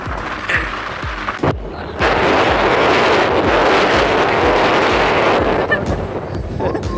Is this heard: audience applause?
no